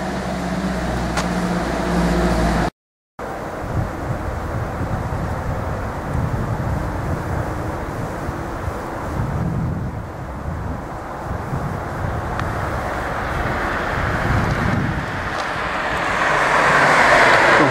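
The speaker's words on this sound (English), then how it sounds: "get out of the way before this truck comes." A truck approaches and passes on Kiriyama Road in Kasagi Town, Kyoto Prefecture, its broad low rumble swelling and growing louder toward the end, mixed with steady wind buffeting the microphone and a brief dropout early on.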